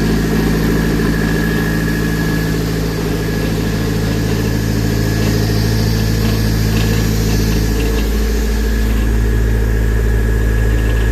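A 2002 Nissan Avenir W11 with the SR20DET 4WD engine idles steadily and close up, a loud continuous low hum with even vibration and no talk over it.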